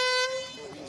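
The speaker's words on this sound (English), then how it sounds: "how good is it kicking off the day with an air horn?" An air horn blasts once to kick off a renovation event, a loud sustained tonal honk that cuts off after a quarter second, followed by a softer trailing tone.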